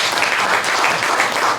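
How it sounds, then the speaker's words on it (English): A room full of people applauds the volunteer fair board members, a steady, dense round of clapping that stays loud and close for the whole stretch with no voices on top. "maybe we could give them, Sue and her board, a round of applause"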